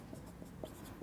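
Marker or chalk writing on a board during a Class 12 maths lesson, heard as soft, close scratching strokes in short bursts with brief pauses between them, with no talking.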